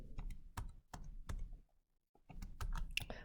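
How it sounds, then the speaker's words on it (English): Button presses on a graphing calculator come in quick clusters of sharp, close taps, pause briefly near the middle, then resume in a faster run. "which I'm typing in right now."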